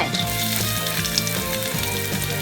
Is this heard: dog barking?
no